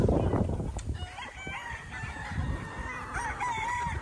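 Gamecock stags crowing and clucking at feeding time on a poultry farm, several birds overlapping, with a long crow rising near the end above steady background clucking.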